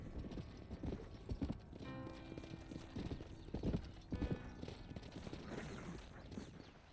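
Horse hooves clip-clop in a steady, uneven rhythm at moderate distance in the video game Red Dead Redemption, with a faint ambient background and no talking.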